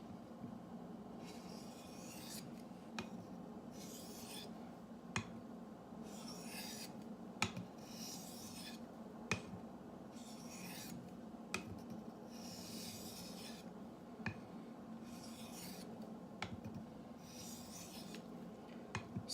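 A hunting knife sharpened on a coarse abrasive stone, rhythmic rasping strokes repeating about every second or two, quiet and close, with small clicks between passes.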